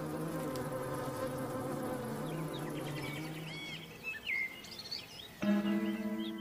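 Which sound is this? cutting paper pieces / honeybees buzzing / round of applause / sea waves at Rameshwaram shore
honeybees buzzing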